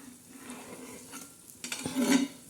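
A besan dhirde, a gram-flour pancake with green chilli, coriander and onion, cooks on a hot tava. A faint sizzle hums under quiet kitchen sounds, then louder spatula scraping comes near the end.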